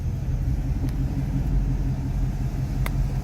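A 2019 Ford Mustang GT PP1 with its exhaust in normal mode, a low steady rumble pulling away from a stop, close and even throughout with a couple of faint clicks.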